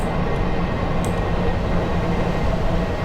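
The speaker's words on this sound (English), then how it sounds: "So it's good to be back with this S7 stock train" An S7 stock London Underground District Line train runs in Train Simulator 2019, giving a steady, loud, unbroken rumble and rolling roar with no voices over it.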